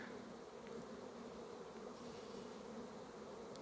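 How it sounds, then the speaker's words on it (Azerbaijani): Honeybees buzz around their hive boxes set out in a yard on a spring day, a steady, dense drone of many insects holding at an even level throughout with no voices. "Bugün arıların bayramıdır."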